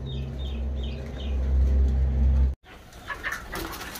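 Pigeons coo in a coop, low rolling repeated coos close by, with some fainter higher calls, then a brief cut and quieter rustling and bird sounds.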